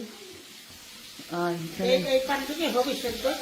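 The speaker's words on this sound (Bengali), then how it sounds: "এই যে চিংড়ি মাছটা একটু ভাজলাম পানের জন্য" Shrimp frying in a pan on a home stove, a steady sizzle with bursts of spattering and clinks as it is stirred, while a voice talks over it.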